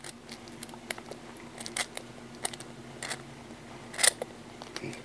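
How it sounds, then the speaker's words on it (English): Scissors make sharp, scattered snips while cutting a rubber boot in half, a series of brief clicks and crunches of uneven spacing, quiet and close against a faint background hum. "You're going to take your scissors,"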